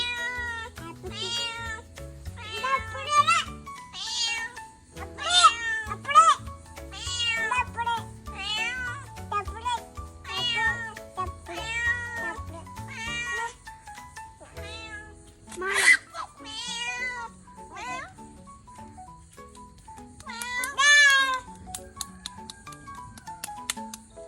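A cat meows repeatedly at home, a string of clear, fairly close calls spread across the whole stretch with short pauses between them. A faint ticking runs in the background.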